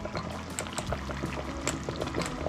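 Beef and tomato stew simmers in a pot, small bubbles popping and gurgling continuously at close range, with a low steady bubbling underneath.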